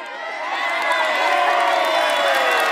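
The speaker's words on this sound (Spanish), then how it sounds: "Esos aplausos fuertes, señoras y señores." A large crowd at a Takanakuy or Tinku brawl roars and cheers loudly and steadily, a dense wall of excited voices and shouts that swells and holds throughout, with no distinct clapping standing out.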